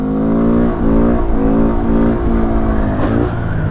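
A Honda Grom motorcycle being ridden, its small engine droning loud and close with steady harmonic tone and several brief rises and dips in revs as the rider shifts, with wind noise throughout.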